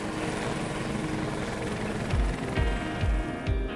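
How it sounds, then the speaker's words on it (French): A private helicopter flies overhead in Quebec, its engine a loud, steady roar with rotor thumps pulsing through, heard alone without talk. "J'utilise mon hélicoptère pour la chasse, la pêche, aller au chalet et puis prendre des prises de vue aériennes aussi"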